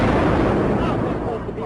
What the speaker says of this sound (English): We just heard one more explosion.